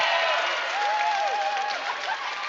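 Crowd applause and cheering at a provincial lead and top rope climbing finals, a steady broadband wash with a faint voice line drifting through, reacting to a climber's dynamic move.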